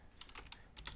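Keys tapped on a computer keyboard while entering ipconfig, a quick run of about six faint, close clicks in an uneven rhythm over a low background hum.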